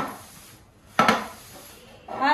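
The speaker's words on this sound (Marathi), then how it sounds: "भांडी घासतो थांबा" Steel dishes, pots and pans clatter sharply once during washing up, a quick metallic double clank that stands alone against a quiet room.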